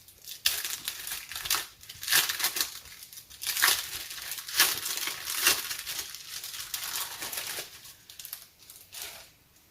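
Christmas tissue paper being crumpled and handled, a continuous crisp crinkling and rustling with bursts of louder scrunching, close up and without talk.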